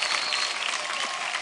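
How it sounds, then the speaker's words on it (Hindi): Dense audience applause for Dharmesh on a dance show stage, a brief continuous burst of close, bright clapping with no talking. "जोरदार तालियां धर्मेश सर के लिए"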